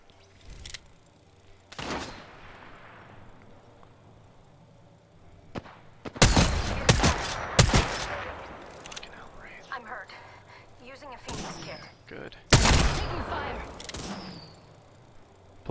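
Bursts of gunfire in a shooter video game crack out in loud clusters, with scattered single shots and impacts between heavier volleys, and a voice can be heard talking over parts of it.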